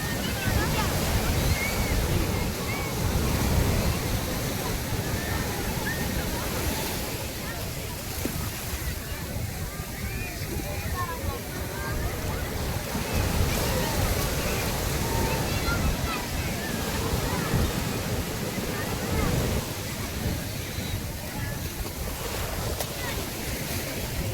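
Ocean surf rolling and breaking continuously on Puthuvype Beach in the evening, a broad roaring wash with wind buffeting the microphone and faint voices beneath.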